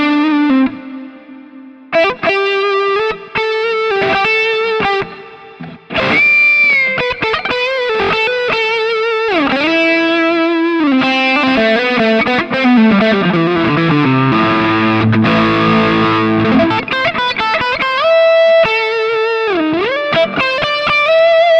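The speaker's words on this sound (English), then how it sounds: "let's jump over to the middle position where we're using both pickups. I believe this is what they call the woman tone" A Gibson Les Paul Faded electric guitar on the middle pickup selector position, both pickups on, with a smooth, saturated woman tone: a loud, continuous lead line of sustained notes, slides and bends with a thick, effected sound, no talking.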